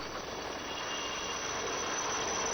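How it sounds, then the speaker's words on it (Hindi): A Coast Guard helicopter flies over the Arabian Sea, its steady, dense engine and rotor roar holding continuously without any break. "इस ऑपरेशन में आप देखें कि किस तरह से हेलीकॉप्टर की मदद ली गई"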